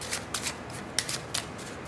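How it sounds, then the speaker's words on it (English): A Karnival Gold deck of playing cards is shuffled close up, giving about six quick, crisp riffling bursts in under two seconds, quiet and alone. "Here's the shuffle."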